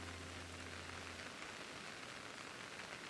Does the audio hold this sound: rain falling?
yes